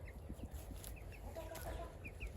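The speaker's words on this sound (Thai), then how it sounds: "เออไก่พันไข่ ไปไปกินข้าวไหม" Laying hens cluck softly in a rural backyard at mid-morning, quiet and intermittent, with small bird chirps over a low outdoor background.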